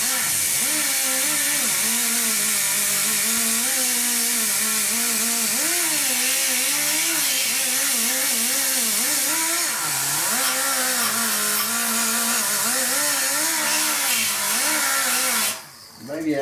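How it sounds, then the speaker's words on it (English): A power tool spinning a nylon brush scrubs surface rust off a 1966 Ford F100 truck dash, a loud steady whining hum with wavering pitch that runs continuously, then briefly drops out near the end. "Down in these places the DA won't fit, I've got one of these nylon brushes."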